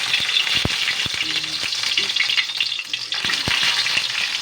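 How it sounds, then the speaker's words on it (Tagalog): Eggplant slices fry in hot oil in a pan, crackling and sizzling continuously with sharp pops and a few clinks of a utensil stirring, close and loud. "Napakaganda ng pagkaluto ng ating talong. So, ilagay na natin yung pangalawang batch."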